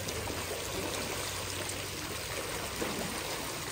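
Water flows steadily into an infinity pool, a dense, continuous rushing pour close by with no pauses and no voices.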